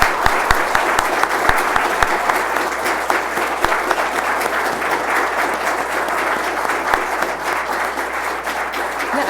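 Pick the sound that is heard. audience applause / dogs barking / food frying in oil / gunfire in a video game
audience applause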